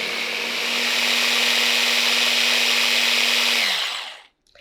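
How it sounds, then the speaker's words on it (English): A hand blender whirs steadily through a mix of tofu, maple syrup and vanilla, loud and close with a constant high motor whine for about four seconds before spinning down and cutting off. "I'm going to blend that with my nice hand blender"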